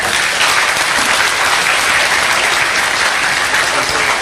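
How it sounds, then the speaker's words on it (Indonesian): Loud, dense applause from an audience at an Islamic religious talk, sustained and even from start to finish with no pauses. "Ini ya, tepuk tangan untuk Allah Subhanahu wa Ta'ala."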